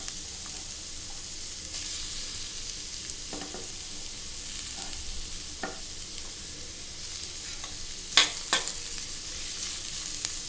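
Onions and green chillies frying in a pan for potato kurma, a bright continuous hiss with a few soft scrapes and clicks of stirring, close and steady without speech.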